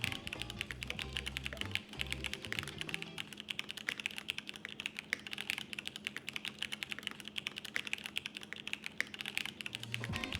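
Steady, rapid typing on a full-size QK101 mechanical keyboard fitted with case foam, the keystrokes close and fairly quiet, with a muted, slightly full clack and no talking.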